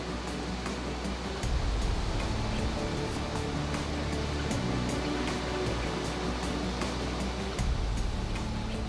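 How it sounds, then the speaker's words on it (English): Angel Falls in Venezuela's Guiana Highlands, the world's highest waterfall, drops 979 meters from the tabletop mountain Auyantepui. Its continuous, dense roar of falling water holds steady throughout, with no talking. "Angel Falls, the world's highest waterfall"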